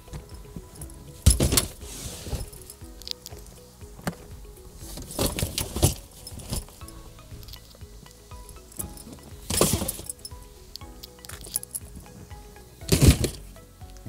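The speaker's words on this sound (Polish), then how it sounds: "A zatem czas na test walizek." Suitcases being loaded into the boot of a Peugeot 301 bring a series of separate bumps, clunks and rattles, with four or five sharper knocks spaced irregularly and quieter shuffling between them.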